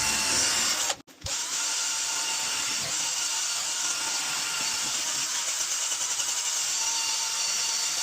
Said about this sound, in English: the drill brush is making light work of it